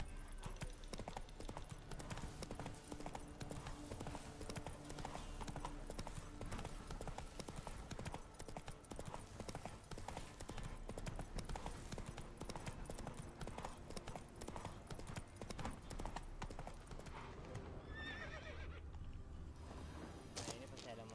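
Horse hooves galloping in the video game The Witcher 3, a rapid continuous clip-clop that stays loud and steady under game music and someone talking.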